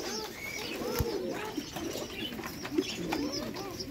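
Pigeons coo repeatedly at a Bangladeshi pigeon seller's stall where birds such as black Bombay pigeons are sold in pairs, with several soft overlapping coos and chirps close by over a busy, low market murmur.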